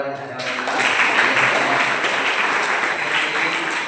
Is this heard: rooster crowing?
no